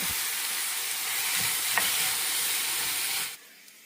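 Chopped tomato, onion and jalapeno sauté in melted butter with a loud, continuous hissing sizzle that drops off suddenly at the end.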